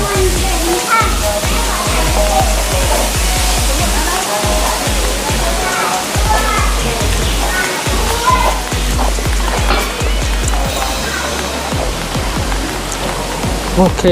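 Water pours steadily onto the base of a temple waterfall, a dense continuous splashing rush with low thumping pulses beneath, loud and close throughout.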